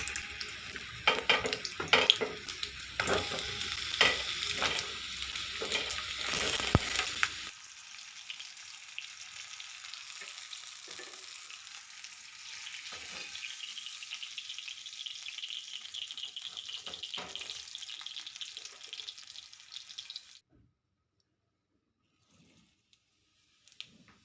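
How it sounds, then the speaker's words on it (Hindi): Pointed gourd (parwal) lightly frying in a hot kadhai gives a steady sizzle, louder and busier with stirring scrapes at first, then settling into a quieter, continuous hiss before falling silent near the end. "अब ये परवल है और इसका हल्का हल्का भूनने"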